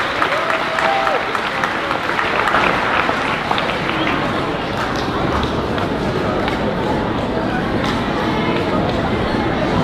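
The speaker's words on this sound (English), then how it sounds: "Can we have another round of applause for Mrs. Gittard and Mrs. Frano's class?" Audience applauding a class at a 5th grade moving-up ceremony, steady dense clapping from a large crowd lasting throughout, with faint voices mixed in.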